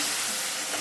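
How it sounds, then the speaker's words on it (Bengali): Soaked turmeric and coriander masala sizzles and fries in a hot pan while being stirred, a dense, loud, close crackling hiss that runs steadily through the brief moment. "সেটিও এর মধ্যে ঢেলে দিয়ে মশলাটি নেড়ে চেড়ে"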